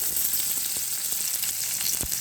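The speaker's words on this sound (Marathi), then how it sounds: "कारले व्यवस्थित परतून घ्यायचे" Bitter gourd sautéing in a pan of oil tempered with cumin, mustard seeds and asafoetida, giving a steady close sizzle with a few brief stirring clicks.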